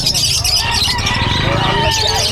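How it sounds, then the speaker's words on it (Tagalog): Many caged birds squawk and chirp at once in a loud, crowded chorus, close by and continuous, at the Bocaue pet market. "Dami na naman ang ibon ni Boss Alex."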